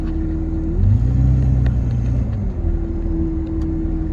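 A 2003 Dodge Ram 2500 pickup in two-wheel drive pulls away, its engine a loud, steady low rumble that swells briefly as the truck gets moving.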